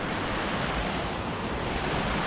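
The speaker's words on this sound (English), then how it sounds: "I love the sound of running water." Running water of a peaty moorland stream in the Peak District, a steady broadband rush filling the whole clip at close range, with no talk over it.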